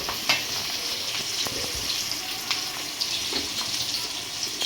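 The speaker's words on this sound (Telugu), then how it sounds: "దీంట్లో పచ్చిమిరపకాయలు, 2 పచ్చిమిరపకాయలు చీలికలు చేసుకొని వేశారు. ఫ్లేము హై ఫ్లేమ్లో ఉంది." Green chillies split lengthwise, followed by onions, fry on a high flame for a fish curry, giving a loud, steady broadband sizzle with faint crackles and occasional scraping throughout.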